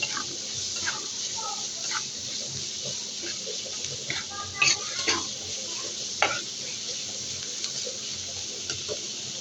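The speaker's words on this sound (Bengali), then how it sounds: "দিয়ে আমি ভালোভাবে চিংড়ি মাছ পেস্টটা ভেজে নেব।" Shrimp paste fries in a pan with onion, salt and turmeric while it is stirred, giving a low, steady sizzle broken by scattered scrapes and ticks of the spoon against the pan.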